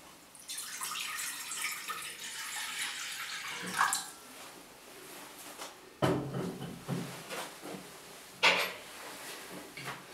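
Water pours and splashes into a pot for a roast lamb shoulder sauce, a steady rushing stream that breaks into intermittent clatters, drips and knocks as the pouring stops and starts nearby.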